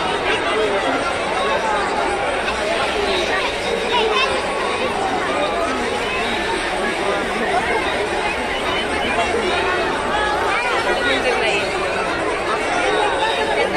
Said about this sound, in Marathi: बघू शकता गर्दीमध्ये वाट काढणं एकदम सर्वात मोठं काम आहे मित्रांनो फुल गर्दी इथं